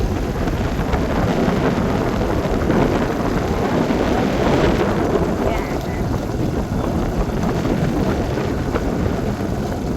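Strong wind buffets the microphone outdoors in a steady, loud roar that fills the whole stretch, with gusts swelling and easing but never dropping away.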